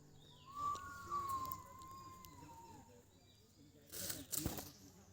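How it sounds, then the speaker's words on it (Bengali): A jackal howls deep in the Sonkupi forest of Purulia, a single faint, long drawn-out wail from a distance, followed near the end by a brief close rustle and faint background chirps. "পুরো শেয়াল ডাকছে মানে একদম জঙ্গলের ভিতরে আছে তো পুরো শেয়ালের আওয়াজ"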